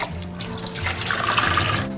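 Peeled raw shrimp being rinsed by hand in a bowl of water, a steady close sloshing and trickling wash lasting a couple of seconds.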